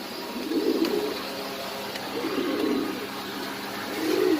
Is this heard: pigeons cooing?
yes